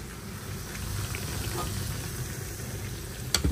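Chili peppers frying in gram flour batter, a soft continuous crackling sizzle close by, with a brief sharp clink near the end.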